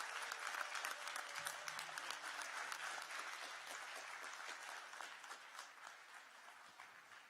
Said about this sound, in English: Please give a round of applause for Karthik uncle